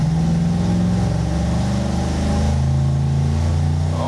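A small block Chevy 305 V8 with a single-plane intake and a big carburetor revs loudly up close, a continuous deep rumbling drone whose pitch rises and falls across about four seconds, with no talking over it.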